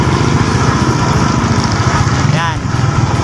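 A motorcycle tricycle engine labours under a load of bamboo, running steady and close with a buzzing drone throughout, while people talk over it.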